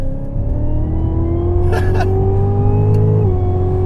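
A 2016 Cadillac CTS-V on a racetrack, its engine holding a steady, loud drone that rises slightly in pitch before easing off near the end, with a couple of brief higher bursts partway through.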